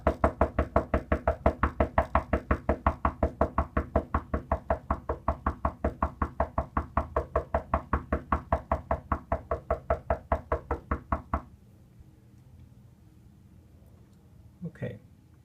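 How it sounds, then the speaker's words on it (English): Rapid, steady knocking on a table, dozens of evenly spaced loud raps for about eleven seconds, then near quiet with one brief thump near the end. "If I keep knocking on the table,"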